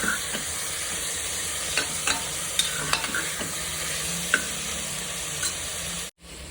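Two medium chopped tomatoes fry in a pot for rasam with a constant sizzle and scattered clicks of stirring, cutting off abruptly near the end.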